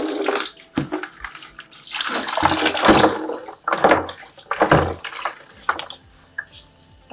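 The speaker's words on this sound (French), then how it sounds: "Je vais les mettre dans une bassine d'eau." Snails being washed in a basin of water, with loud close sloshing and splashing in irregular bursts and quieter dripping and trickling between them.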